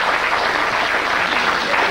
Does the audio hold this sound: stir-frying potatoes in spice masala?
no